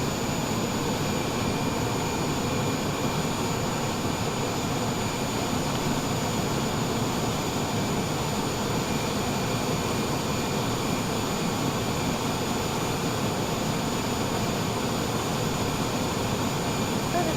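Airliner pushback in Microsoft Flight Simulator 2020 at Toronto, with a steady, loud jet engine whine and broadband roar holding unchanged throughout, no talk over it.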